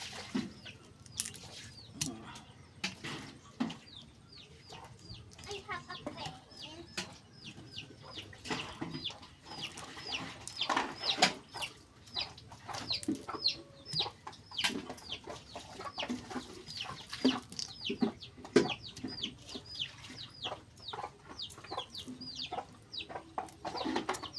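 Chickens cluck and chatter nearby, a busy stream of short, overlapping calls at fairly low volume that carries on throughout, with faint background activity.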